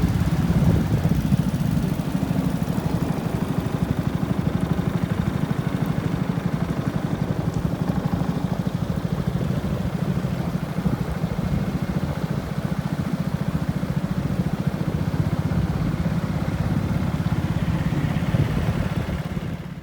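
A small four-person motorboat's engine drones throughout on Lake Tempe, a low continuous rumble with a faint chugging texture, fairly loud and close.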